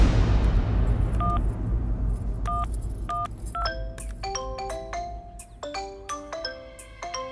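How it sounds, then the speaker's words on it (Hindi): A bright electronic phone ringtone plays a rapid melody of beeping tones, starting sparse and growing busier, over a low rumble. "लागत ओकरे फोन बा।"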